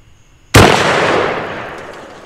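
A single loud shotgun blast firing buckshot at a bulletproof T-shirt, a sharp close report followed by a long decaying outdoor rumble, with no talk over it.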